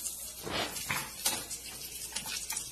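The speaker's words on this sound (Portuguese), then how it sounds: "E enquanto a cebola está suando, eu vou ralar a cenoura." A carrot rubbed against a kitchen grater in a series of rough, rasping strokes, fairly quiet and irregular, with nobody talking.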